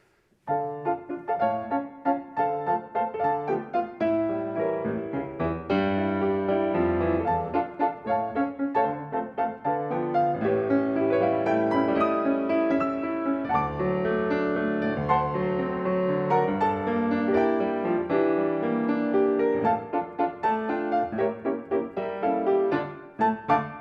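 A solo piano plays a steady, flowing melody in a minor key, with chords underneath, continuing at an even tempo throughout.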